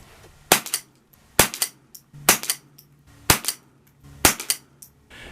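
Five sharp .22 pistol shots from a High Standard Sport King firing Winchester Dynapoints, spaced roughly a second apart, each a crisp crack with a short echo tail, no talking.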